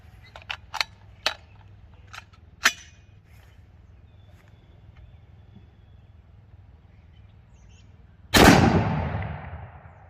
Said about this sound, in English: I do want to clang steel once or twice real quick